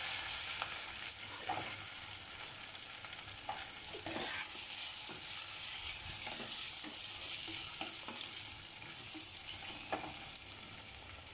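Steady sizzling of onions frying in a pan, with occasional scrapes and clinks of a spoon stirring, no voices.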